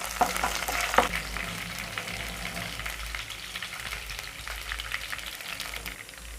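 Cumin seeds, two or three bay leaves and two cinnamon pieces sautéing in a spoonful of hot ghee for veg dalcha, a soft steady sizzle with a couple of sharp clinks and scrapes near the start, fairly quiet over a low hum.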